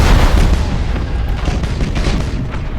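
Heavy rumbling booms and blasts from bomber attacks in the space battle game Battlefleet Gothic Armada, loud and dense, rolling continuously for a few seconds with no voices.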